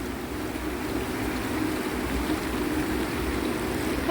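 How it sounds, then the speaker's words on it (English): Water flows steadily beneath an old mill house, a constant close rushing and trickling murmur with no pauses or voices. "The water goes under the house."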